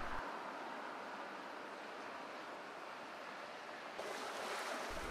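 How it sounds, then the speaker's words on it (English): Sea water surges and washes against the shore by a breakwater during an extreme high tide, a steady broad rushing roar that swells slightly louder toward the end, with no voices. "Down at the seashore, and the water's rising."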